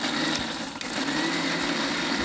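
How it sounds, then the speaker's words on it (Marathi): A kitchen mixer grinder runs at full speed, finely grinding ingredients for motichoor laddu, giving a steady, loud, continuous whirring roar with a brief dip near the middle and no talking. "मिक्सरमध्ये याला खूप बारीक करून घ्यायचं म्हणजे लाडू छान येतात."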